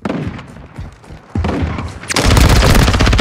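Heavy gunfire in Call of Duty MW2 during a 10v10 Domination match at Santa Sena border crossing, loud overlapping shots and booms under game radio chatter, swelling into a dense sustained barrage toward the end.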